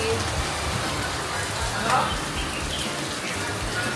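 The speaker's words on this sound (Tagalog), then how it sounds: "It's rainy day? Rainy day." Rain falls steadily in an outdoor setting in Vietnam, a constant dense patter and hiss that runs the whole time, with faint background sounds mixed in.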